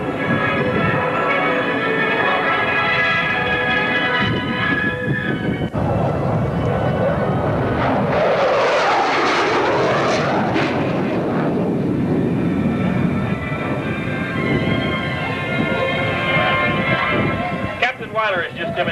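USAF Thunderbirds fighter jet at the 1986 Texas Air Expo in Waco, a loud rising roar as it sweeps past and fades, heard over crowd noise and an announcer's voice.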